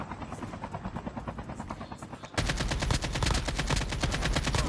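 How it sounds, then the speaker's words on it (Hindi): A helicopter in the Call of Duty video game thumps with rapid rotor chops, growing abruptly louder and closer midway, with gunfire bursts mixed in. "तभी यहाँ पे एक हेलीकॉप्टर में पूरी स्क्वाड आ जाती है"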